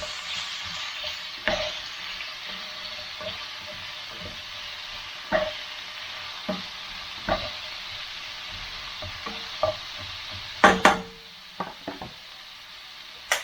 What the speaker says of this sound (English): So, the leeks are in. Give that a bit of a stir.